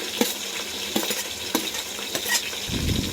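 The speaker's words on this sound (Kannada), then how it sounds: "ಈಗ ಸ್ವಲ್ಪ ಹಸಿಮೆಣ್ಸಿನ್ಕಾಯಿ ಫ್ರೈ ಆದ ಈರುಳ್ಳಿ ಹಾಕ್ತಾ ಇದ್ದೀನಿ" Green chilies stirred into frying onions in a pan for homemade fried rice, with a soft sizzle under several sharp scrapes and clinks of a spatula, and a louder burst of frying near the end.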